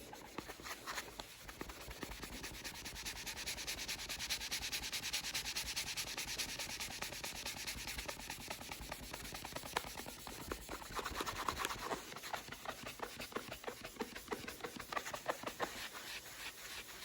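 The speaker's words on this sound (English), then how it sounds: "I'm going to take my microfiber cloth, my Mr. Clean eraser, and I'm going to rub it pretty good" Steady, vigorous rubbing of a trading card with a Mr. Clean melamine eraser and microfiber cloth, a continuous close scrubbing hiss with slight surges in pressure throughout and no talking.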